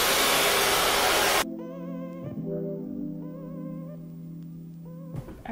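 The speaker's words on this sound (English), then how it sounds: "So while I have this on to dry it quicker, I'm going to get my blow dryer." A hair dryer with a diffuser blows with a loud, steady rush, then it cuts to a quieter tonal motor whine that hums on until the end.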